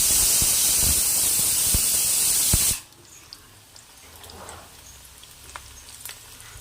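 Ivy gourd (kovakkai) pieces deep frying in hot oil give a loud, steady sizzling hiss with a few pops, then the hiss drops sharply to a faint low bubbling with occasional soft crackles.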